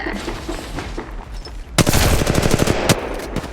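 Gunfire in the mobile game Apex Legends Mobile: after a short lull, a loud, close burst of rapid automatic shots erupts and keeps rattling to the end.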